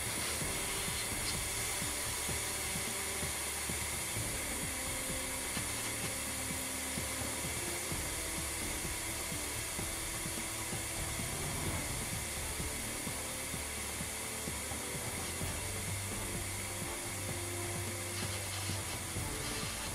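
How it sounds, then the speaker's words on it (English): An Exair cold gun blowing cold air from an ordinary compressed air source in an industrial setting, a loud, continuous hissing rush of air that holds steady for the whole stretch, with faint mechanical tones underneath and no talking. "The cold gun instantaneously produces cold air from an ordinary compressed air source."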